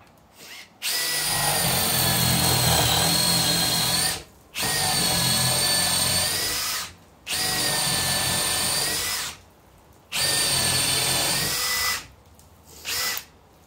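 Power drill with a spade bit boring into wood, loud and close, in four long high-pitched bursts of two to three seconds each separated by short pauses, then a brief final burst.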